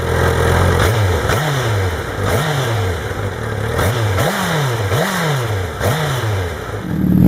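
A 2012 Honda CBR1000RR fitted with a Hyperflow exhaust is revved repeatedly from idle. About seven sharp, evenly spaced blips rise and fall in turn, loud and close, with no talking.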